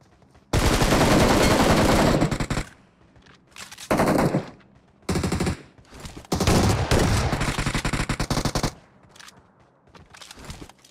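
Rapid shotgun and automatic gunfire from the BGMI mobile battle royale game comes in several long loud bursts separated by short pauses, with quieter shots trailing off at the end.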